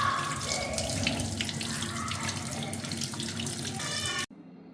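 Tap water runs steadily into a sink as muddy colocasia (taro) is rinsed clean, a loud continuous stream that cuts off abruptly near the end.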